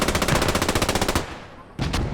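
Rapid machine gun bursts from a multiplayer shooter match, loud and continuous with a steady rattling rhythm, a brief pause, then another burst; no voices.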